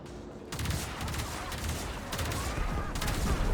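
Railjack gunners in Warframe fire on enemy ships in rapid sustained bursts of gunfire, loud and continuous, broken by short pauses between volleys.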